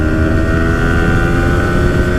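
Yamaha R15 V4 motorcycle engine held in third gear on the road, a loud, close, steady drone with dense rumble and a bright whine, unbroken throughout.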